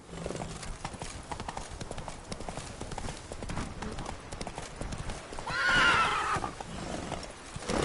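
Horse galloping in The Witcher 3, steady hoofbeats throughout with a loud, drawn-out neigh rising over them near the end, plus a little background talk.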